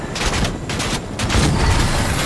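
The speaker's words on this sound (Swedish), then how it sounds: "Nej, de skjuter!" Rapid gunfire from the video game Fortnite crackles in dense bursts, loud and continuous, with short gaps between volleys.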